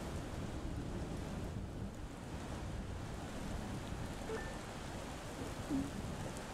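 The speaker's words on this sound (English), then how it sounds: "Said it was gonna rain." Steady rain falls throughout a scene in the video game Zarvot, a dense continuous hiss at even loudness with a faint brief tone and a small knock near the end.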